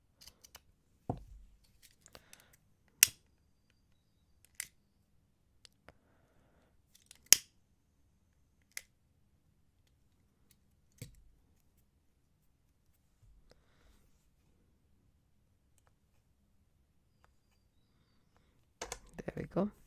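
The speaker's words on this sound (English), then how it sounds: "Snip the extra cords here." Scissors snip off extra macrame bracelet cords in sharp, isolated clicks scattered across near silence, close and crisp, with a brief rustle of handling at the end.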